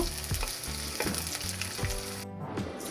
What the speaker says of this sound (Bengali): এখন পেস্টটাকে ভালো করে নেড়েছেড়ে একটু লাল লাল করে নেব